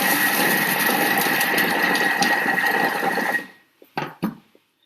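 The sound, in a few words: food processor chopping broccoli at speed 4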